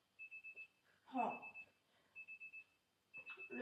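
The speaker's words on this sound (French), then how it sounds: "Le lendemain, notre réveil sonne." An alarm clock in the video game Pokémon Legends Z-A rings in short bursts of rapid high beeps, pausing between groups, with faint talk between the bursts.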